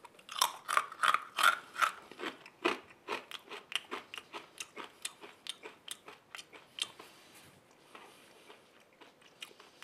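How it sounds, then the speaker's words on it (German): Crunchy homemade tuna cookies being bitten and chewed up close, giving a rapid series of sharp, dry crackling crunches that slowly thin out and grow quieter toward the end. "Wir haben hier also meinen kleinen, knusprigen Thunfischkeks. Wollen da mal reinbeißen."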